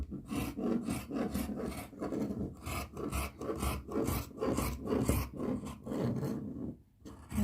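Scissors cut through dress fabric on a table in a series of close, rhythmic rasping snips and rubs, with a short pause near the end.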